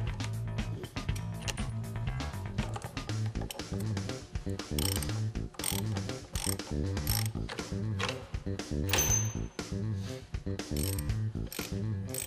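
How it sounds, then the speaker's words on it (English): A short ratchet strap is cranked tight to join the ends of an over-the-tire track on a skid steer, with repeated rhythmic ratcheting clicks, loud and close, continuing throughout. "we're using this short ratchet strap to connect up the two ends of the TrackMaster over the tire track"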